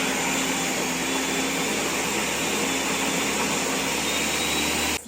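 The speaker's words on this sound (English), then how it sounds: "what we wanna do is blend it so it gets nice and smooth and creamy" A blender whirs almond butter into a smooth, creamy mixture: a loud, steady, unbroken motor drone for about five seconds that cuts off abruptly at the end.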